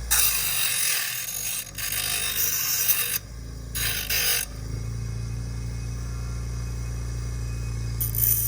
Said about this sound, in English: So we're going back to our little mini grinder.